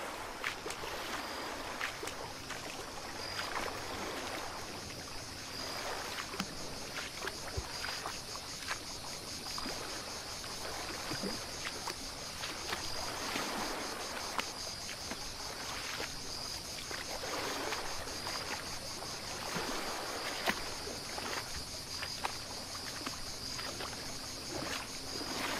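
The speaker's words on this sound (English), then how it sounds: "you paddle round a little headland and find yourself in a secluded cove." A canoe or kayak paddled through calm water into a secluded cove, with soft, quiet swishes and trickles of water against a faint steady background.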